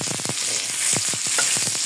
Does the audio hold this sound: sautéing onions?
yes